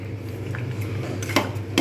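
Stirring date jaggery payesh in a pot, a thick, simmering milk pudding sweetened with khejur gur and cardamom, with a steady low bubbling bed and two clinks of a spoon against the pan near the end.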